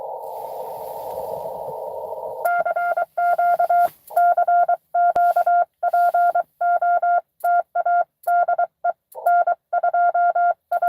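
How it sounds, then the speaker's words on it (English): Morse code CW on ham radio during a Parks on the Air activation at a park: after about two seconds of steady band hiss, a clear keyed tone pulses on and off in irregular dots and dashes, loud and close, with no talking. "somebody's definitely doing CW"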